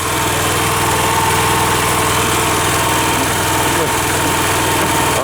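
A motor on a solar storage shed runs loudly and steadily with a constant vibrating drone, close by, with a voice talking over it.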